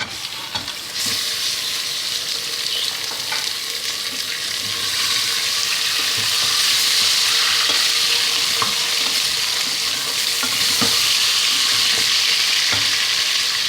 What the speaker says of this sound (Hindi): और इसको अच्छे से गोश्त को भून लेंगे।